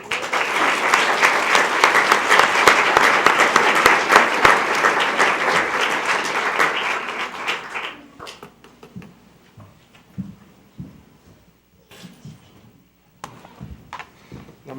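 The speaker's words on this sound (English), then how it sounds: "let's give a little round of applause" An audience at a Loudoun County Public Schools board meeting breaks into loud, dense applause for about eight seconds, then it cuts off, leaving scattered faint clicks and room noise.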